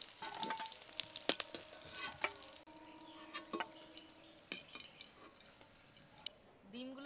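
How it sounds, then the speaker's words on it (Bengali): Eggs frying in a little oil in a pan, a soft steady sizzle broken by sharp crackles and pops, with a few scraping and handling sounds near the end. "অল্প তেল দিয়ে ডিমগুলোকে ঘুরিয়ে ফিরিয়ে একটু লাল লাল করে ভেজে নেব"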